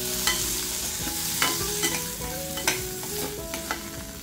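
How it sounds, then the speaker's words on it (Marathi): Tomatoes sautéing in a pan on low gas heat with oil and ground coconut, steady sizzle broken by repeated spatula scrapes and stirring clinks at close range, no voices. "2 मिनिटं टोमॅटो परतून घेते छान, थोडासा सॉफ्ट होईल तोपर्यंत."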